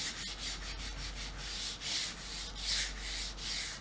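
Cloth from an old t-shirt rubbing stain into a painted wooden Easter sign, a soft steady scuffing with rhythmic swells as the rag is worked back and forth close by, no voices.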